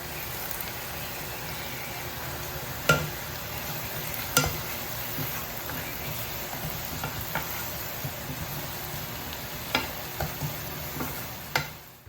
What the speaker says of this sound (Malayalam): കുറച്ച് കറിവേപ്പിലയും കൂടിയും ചേർത്തിട്ട് നന്നായിട്ടൊന്ന് വഴറ്റിയെടുക്കുക.